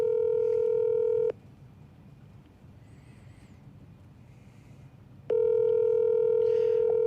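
A phone call rings out over a speakerphone, two loud steady ringback tones bracketing a gap of low background hiss, with no voices during the call.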